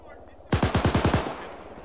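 Automatic cannon fire from a BMP armored vehicle in the military game Arma 3: a rapid burst of about seven heavy, booming shots lasting under a second, loud and close, trailing into a low rumble.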